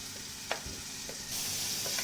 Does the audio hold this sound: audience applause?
no